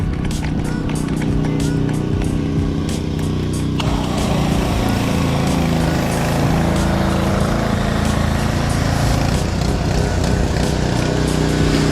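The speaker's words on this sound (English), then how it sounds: "You hear the pressure washer idling" A pressure washer idles during a mobile car detail wash, a loud continuous engine rumble close by with a steady mechanical hum, running without pause and with no talk over it.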